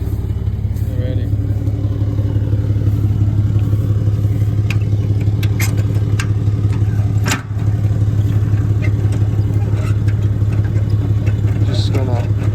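A Cummins pickup truck engine runs steadily with a deep, loud diesel throb while it parks a trailer in four-wheel drive. Close and continuous, with a brief dip midway and scattered clanks and knocks on top.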